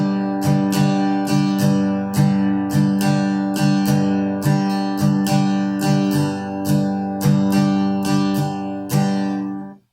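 An acoustic guitar strums a steady 4/4 down-up pattern, with about sixteen bright, ringing chord strokes in an even, driving rhythm. It is close and clear, with no voices.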